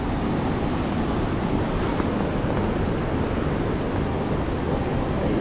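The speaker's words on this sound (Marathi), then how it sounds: "हा बघा हा काजवी आपला बुडाला आहे पाणी त्याच्यावरून जात आहे" Water rushes over a submerged causeway in a Ratnagiri village after flooding, a steady, loud broadband roar with wind buffeting, unbroken throughout.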